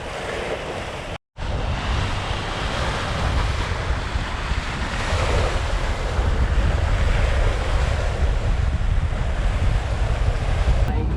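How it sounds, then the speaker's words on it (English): Atlantic waves crash and wind rushes steadily against a sailboat motoring into a headwind through a cut in the Exumas, Bahamas. The noise is loud, close and continuous, with one brief dropout near the start. "Less swell than yesterday, but we are still bashing in the waves."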